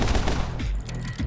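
Rapid bursts of gunfire from a slow-motion action shooter, dense overlapping shots with low thumps rolling continuously through the moment, loud and close, with no talking.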